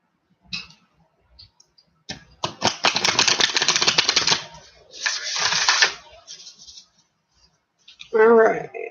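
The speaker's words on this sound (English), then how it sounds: "Shuffle these one more time." Tarot cards being shuffled by hand, bursts of rapid crisp riffling clicks in several separate passes with pauses between, close and fairly loud, a short voice near the end.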